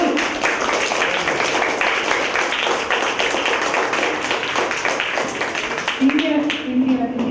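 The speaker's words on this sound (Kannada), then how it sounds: "ಎಲ್ರಿಗೆ ಸಹ ತುಂಬ ಜೋರು ಚಪ್ಪಾಳೆ ಹಾಕಿ ನೋಡು" Children at a summer camp closing ceremony clapping loudly together, a dense, sustained patter of many hands close by, with voices mixed in and a brief word spoken near the end.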